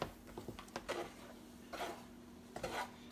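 Melted marshmallows being stirred in a pot over lowered heat, a handful of scraping and clinking spoon strokes against the metal, close and fairly quiet, spread unevenly over a few seconds with no talking.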